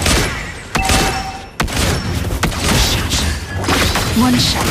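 Video game gunfire with heavy booming shots and crashes against a turret, sharp separated impacts over a busy battle din, with speech over the top.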